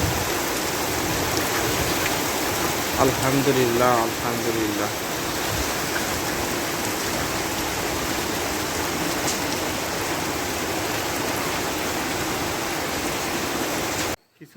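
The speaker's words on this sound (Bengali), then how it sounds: "কচু পাতার মধ্যে বৃষ্টির ফোঁটা পড়তেছে" Rain falling on taro leaves outdoors, a dense continuous patter that holds steady throughout, with a person speaking briefly early on under the rainfall.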